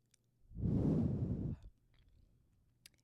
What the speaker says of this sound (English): start by taking a deep breath in